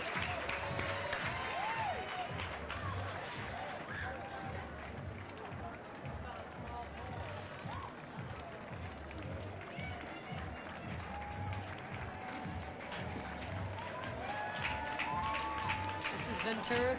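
Parade crowd at a 1991 Los Angeles Pride march cheering and applauding along the street, a continuous outdoor wash of clapping and crowd noise with a commentator talking over it.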